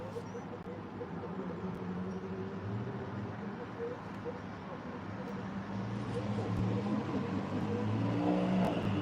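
A car passes at night on a residential street, a low broad engine and tyre rumble that swells steadily toward the end, with faint voices around it.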